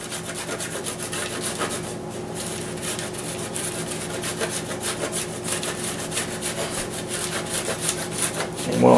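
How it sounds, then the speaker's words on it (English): Fresh Romano cheese is grated onto a homemade pizza with a steady, close, raspy scraping that runs continuously, its rhythmic strokes rubbing against the grater. "we'll just top this off with a little fresh grated Romano"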